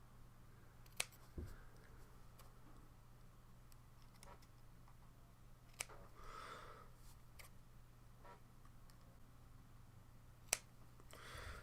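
Wire coil leads on a Wotofo Conqueror RTA being snipped, giving a few sharp, isolated clicks spread over a quiet stretch, close and crisp, with faint handling noise between cuts.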